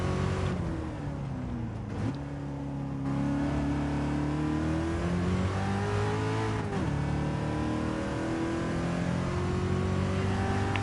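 Ford GT40 race car engine revving steadily at Le Mans in a racing video game, a loud continuous drone with pitch rising and falling through gear changes, alone without talk.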